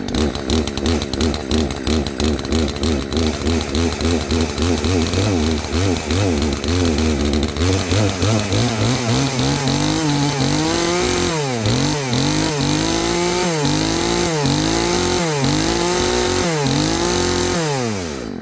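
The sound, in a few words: chainsaw running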